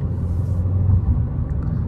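Inside a 2021 Fiat Cronos Precision 1.8 with six-speed automatic cruising on a highway, the engine and road give a steady, low droning rumble that swells slightly and then eases, with no talking.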